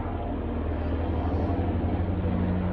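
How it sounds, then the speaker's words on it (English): Helicopters fly overhead outdoors, a continuous, fairly loud low droning rumble with steady throbbing tones that holds evenly throughout, with no one speaking. "Got helicopters coming over."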